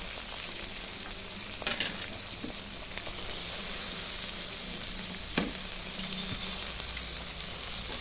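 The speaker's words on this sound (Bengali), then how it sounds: "লঙ্কা, রসুন সব আমি উপকরণগুলো ভেজে নিচ্ছি।" Chillies and garlic fry in a pan with onions, a dense, continuous sizzle close up, with occasional scrapes and taps of stirring and no speech.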